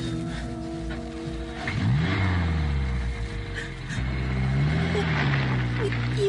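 A car engine revs and pulls away in an old radio drama scene, the motor rising and shifting pitch as it accelerates, loud and close, with muffled voices talking over it.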